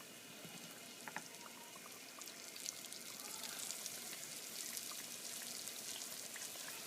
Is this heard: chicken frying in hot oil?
yes